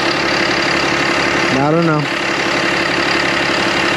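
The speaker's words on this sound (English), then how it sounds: "Sounds like a Cummins." A Cummins diesel pickup truck engine with a reported engine noise idles steadily and close throughout, a continuous rough drone, while someone briefly speaks over it.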